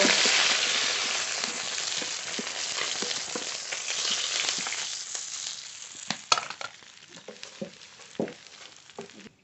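Rita fish fry in oil with a close sizzle that fades over time, followed by sharp clinks and scrapes as the pieces are handled, with no voices.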